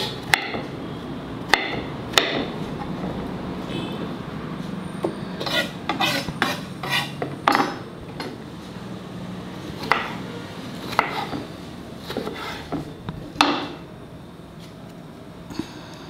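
Knife cutting pumpkin into pieces on a board, irregular sharp thuds and scrapes, some in quick bursts, close and fairly loud.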